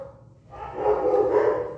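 Dogs in a home kitchen bark and yip in a quick, clustered burst, close and fairly loud, rising after a brief quieter tone.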